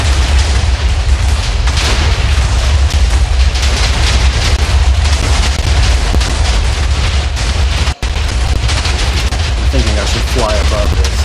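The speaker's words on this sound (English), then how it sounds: "some lava underneath is going to detonate that TNT" TNT blocks set off by lava in Minecraft create a continuous dense roar of overlapping explosion booms, loud and sustained, with a brief dropout near the end.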